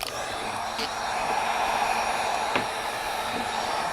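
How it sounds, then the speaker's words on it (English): A heat gun blows hot air onto a print mat in an art workshop, a steady airy whoosh holding at moderate loudness with a few small clicks and taps. "So what I'm going to do is hit it with the heat gun now."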